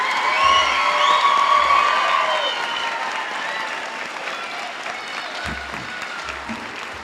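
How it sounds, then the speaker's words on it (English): A crowd at a school district online academy graduation ceremony applauds the graduates, with cheering and whoops mixed into the loud, sustained clapping, which tapers slightly toward the end. "Could we please have one more round of applause for all of our graduates?"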